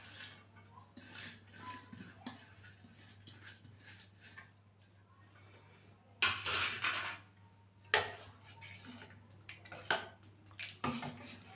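Wheat dosa batter is stirred with onion and chilli in a bowl, giving soft clinks and scrapes of a utensil against the bowl. Several sharper, louder clanks come near the end.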